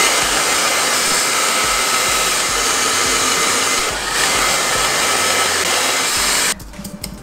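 Hair dryer running on hair, a loud steady high-pitched whir held for about six seconds before cutting off abruptly, leaving quieter handling noise.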